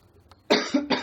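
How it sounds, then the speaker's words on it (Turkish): A single sharp cough, close and loud, following a few quiet breathy sounds, with a second burst trailing right after. "Öksüresim geldi."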